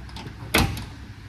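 A door on a hot rod restoration project car with a strip of rubber fitted in place of missing door seals shuts with a single sharp thud, close by in a quiet workshop.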